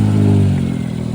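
A car engine at a Japanese car shop fires up and revs briefly, a loud, close, steady mechanical drone with no talking over it.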